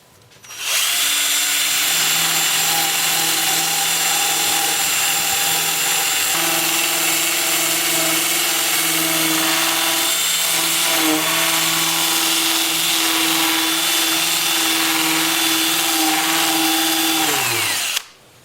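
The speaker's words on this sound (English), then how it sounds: "I will show you my sanding process as soon as I get my mask on" Black cherry live-edge wood is sanded on a spinning lathe, giving a loud, steady whirring hiss with a constant mechanical hum that runs unbroken for about seventeen seconds before stopping abruptly.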